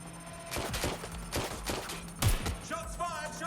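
Gunfire in Watch Dogs Legion: a burst of several sharp shots, fairly close, with one louder crack near the end, then a voice calls out briefly.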